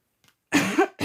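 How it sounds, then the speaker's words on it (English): A woman gives a single sharp cough followed by a second brief one, close and clear against a quiet room, attributed to allergies. "I keep coughing, but I think it's just allergies kicking in"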